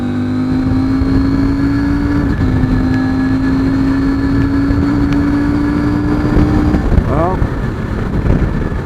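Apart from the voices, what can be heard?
CF Moto 800MT motorcycle riding at over 100 mph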